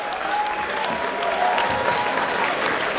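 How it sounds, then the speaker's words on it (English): Crowd at a prize fight main event applauding steadily, a dense wash of clapping filling the whole moment, with a faint tone and some indistinct voices mixed underneath. "a big round of applause for a prize fighter main event."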